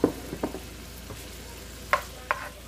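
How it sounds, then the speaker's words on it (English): Vegetables for beef and broccoli with noodles frying in a pan, a soft low sizzle broken by a few sharp clanks and scrapes of stirring, with no talk. "I'm gonna cook my vegetables first."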